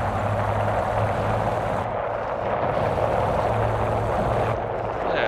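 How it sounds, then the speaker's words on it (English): Aircraft engines droning overhead in the War Thunder video game, a loud, steady, broadband roar with a low propeller hum that holds throughout. "Oh yeah, they got planes in the air, that's for sure."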